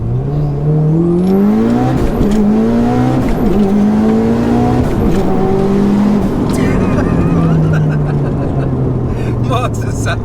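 A 694bhp Mitsubishi Evo V accelerates hard with the engine note climbing through gears in steady sweeps, loud and close from inside the car, while people talk over it.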